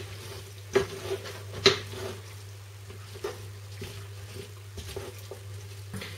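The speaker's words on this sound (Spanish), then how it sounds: "Y ahora ya removemos todo bien" Fritada ingredients seasoned with salt and pepper are stirred in a pan, with a few sharp utensil scrapes and knocks over a low steady hum, close and fairly quiet, with no voices.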